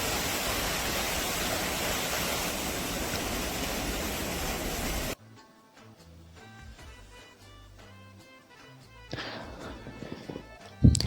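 Water rushes in a loud, steady roar at Musa Khel in Balochistan for about five seconds, then cuts off abruptly to a much quieter mix of softer sounds.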